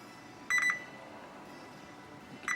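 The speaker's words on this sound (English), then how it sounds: "So let's put our meter into diode test mode." A multimeter in diode test mode, checking diodes on a Fuji Electric Frenic 5000G11S drive, gives a short burst of quick high beeps, then a single brief beep near the end, over a quiet background.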